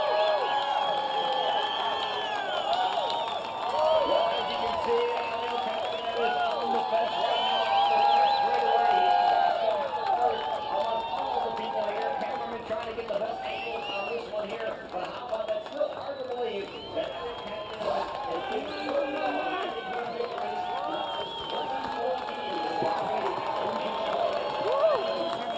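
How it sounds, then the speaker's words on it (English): A grandstand crowd at an IndyCar race finish roars and cheers for a winning driver, a loud sustained swell with whoops and scattered clapping over the distant hum of the track. "Listen to the crowd."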